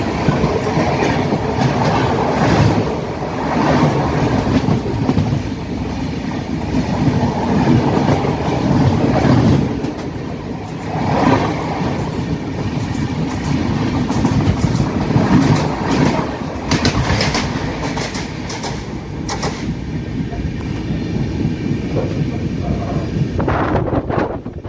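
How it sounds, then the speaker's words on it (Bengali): Heard from inside a general-class coach, the Chambal Express rolls on its rails toward Agra Cantt with a loud, continuous rumble and rhythmic clickety-clack of wheels over joints, with wind noise and no talking. "আমাদের ট্রেন এখন আগ্রা ক্যান্ট ঢুকবে"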